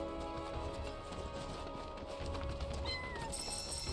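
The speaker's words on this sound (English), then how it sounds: "Cat! Heard something." Cat meowing in the video game Final Fantasy VII Rebirth, brief mews over a busy game soundscape with footsteps and ambient music, no talk.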